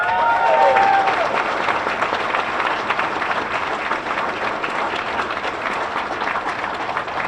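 Sustained applause from a luncheon crowd at a sports awards ceremony honoring a scholarship winner, dense and even clapping that fills the room at steady loudness from start to finish.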